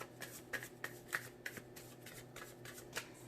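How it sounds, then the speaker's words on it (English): A deck of tarot cards is shuffled by hand, giving a steady run of soft riffling and sharp card snaps in quick, irregular bursts, close and fairly quiet, with no talking. "When a card flips out, that's my sign that that's the end of a shuffle."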